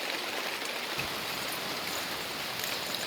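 Steady rain pours down outside a house in Thiruvananthapuram, a dense, even hiss of falling water with scattered drops, continuous and fairly loud with no voices.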